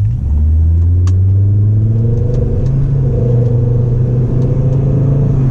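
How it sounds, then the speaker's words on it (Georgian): The turbocharged engine of a 1998 Volvo S70 T5 drones loudly and close from inside the car as it pulls steadily, with its pitch slowly rising under acceleration. A faint click is heard early on. "აი უბრალოდ მინდა რომ გაუჩუმდე და უსმინო ამ მანქანის ძრავს, იმდენად მაგარი ძრავი აქვს"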